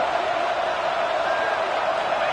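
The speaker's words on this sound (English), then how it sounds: "this crowd is fired up. Listen to this noise here." Dense, steady crowd roar at an LSU versus Oregon college football game, a loud continuous wash of cheering voices filling the stadium with no break or lull.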